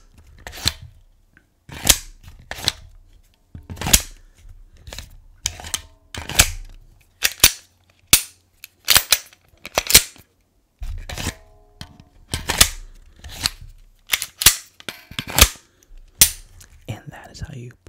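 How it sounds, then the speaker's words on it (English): A gun magazine is repeatedly inserted into a magwell and pulled back out, giving a steady series of sharp, close metallic clicks and snaps with short pauses between them. "index a magazine, take it out, reload, so on and so forth"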